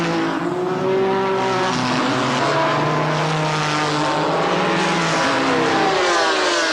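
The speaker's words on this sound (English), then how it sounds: "and also Enzo Calderari and Lilian Briner as they string out on this first lap around Jarama" GT race cars, including a Ferrari F40, strung out on the opening lap at Jarama in a 1995 BPR Global GT Series round, multiple engines roaring loudly together with rising and falling pitch as they pass.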